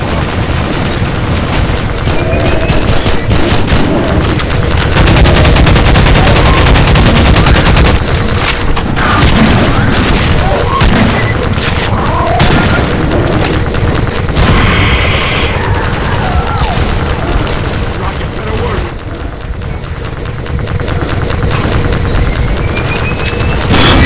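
In the video game Half-Life 2, a loud and dense firefight brings rapid bursts of automatic gunfire, booming explosions and clattering impacts, with faint character voices shouting in the mix.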